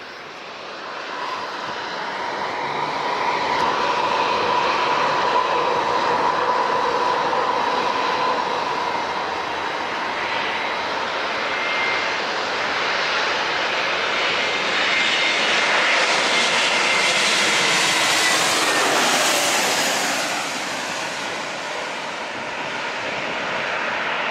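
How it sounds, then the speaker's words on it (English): A JetBlue Airbus A321neo arriving from Boston lands at San Diego International Airport, its jet engine roar swelling, sweeping past fairly close and loud, then fading slightly, with no talking. "JetBlue A321-200 Neo coming in from Boston."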